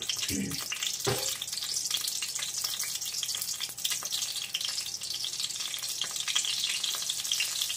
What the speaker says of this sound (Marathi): हिंग, मोहरी घालून नेहमीसारखी फोडणी करून घ्यायची.